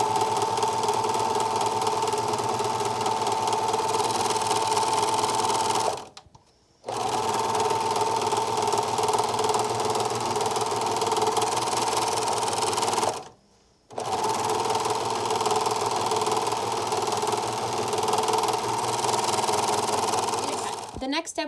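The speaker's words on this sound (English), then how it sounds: "now I'm going to serge down the side, across the bottom, and up the other side" A serger runs in long, fast, steady bursts while overlocking the edges of a fabric medical mask. Three loud, close runs are separated by two short pauses.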